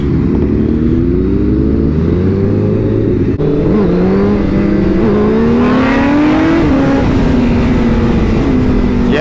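A Honda CBR1000RR-R Fireblade SP sportbike engine revving and pulling hard under acceleration, a loud continuous howl rising and shifting in pitch across the whole clip, with no talk over it.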